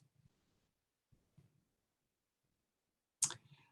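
A single sharp mouse click on a computer screen button, loud and close against near silence, preceded by a few faint soft taps.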